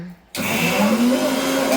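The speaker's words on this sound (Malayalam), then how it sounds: "അവിടെ മിക്സ് ഓണാക്കി" A kitchen mixer grinder switching on after a brief quiet moment, its motor whirring loudly and steadily right up close.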